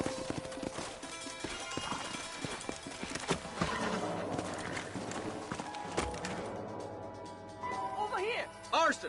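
Horses clip-clop and gallop in the Western video game Red Dead Redemption, hooves pounding steadily under gunfire, game music and shouted character dialogue.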